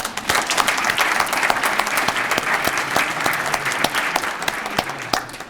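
An audience at the Virginia Racial Healing Builders Awards claps warmly in steady, dense applause that holds at full strength throughout.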